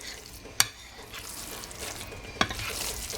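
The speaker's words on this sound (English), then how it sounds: "Give this a stir" Southern cornbread dressing stirred in a pot, a soft continuous scraping and gentle sizzle with two sharp spoon clicks against the pot's rim.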